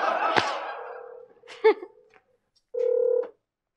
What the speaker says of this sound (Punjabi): ਆ ਵੇਖ ਲੈ, ਫੋਨ ਆਇਆ ਤੇ ਹੈ ਕਿਸੇ ਦਾ